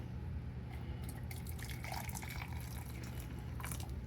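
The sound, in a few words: hot water poured into a teacup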